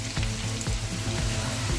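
Pieces of fried mutton tipped into a pan of onions sizzle loudly and steadily, with scraping stir strokes cutting through the hiss again and again.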